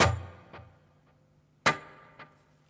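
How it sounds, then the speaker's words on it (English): Two sharp plucked guitar hits through a digital mono delay, each followed by a quieter delayed repeat about half a second later, decaying into near silence. "It's a digital mono, and it sounds like this."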